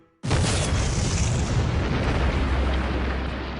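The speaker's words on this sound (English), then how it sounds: "there was a delayed blast" A delayed blast deep inside a tunnel being dug by workers: a sudden, very loud boom that erupts after a brief quiet and rolls on as a sustained, heavy rumble.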